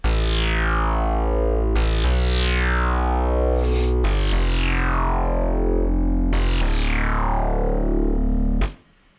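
An electro synthpop bass patch built in Native Instruments Massive with its reverb, playing a loud, distorted, gliding line in repeated phrases, each note sweeping down with a long reverb tail, alone with no voices before cutting off near the end.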